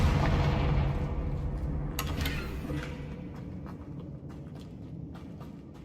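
A Confringo blasting spell erupts in Hogwarts Legacy, a loud, rumbling burst that rolls on and slowly fades, with a sharper crackle partway through.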